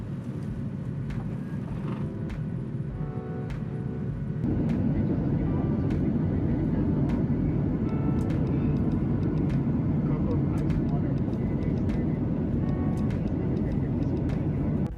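Steady, loud airliner cabin roar on a flight from Las Vegas to San Jose, the low engine drone swelling stronger partway through and holding continuously, with faint murmuring voices underneath.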